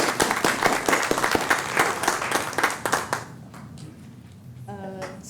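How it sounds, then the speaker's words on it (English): An audience at a Corpus Christi Regional Transportation Authority meeting applauds to welcome new employees, clapping briskly for about three seconds before it dies away, and then a voice starts to speak. "So I'd like to give you a round of applause,"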